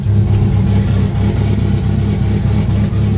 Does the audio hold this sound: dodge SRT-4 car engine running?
yes